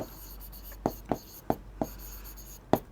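Pen or marker strokes on a writing surface during a Class 8 maths lesson: faint, close, short scratchy taps in an irregular rhythm against a quiet background.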